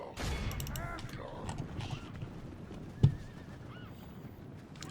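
A horse in Medieval II: Total War neighs and clip-clops amid battle sounds in the game, with a sharp crack near the middle, fairly faint overall and partly under a voice.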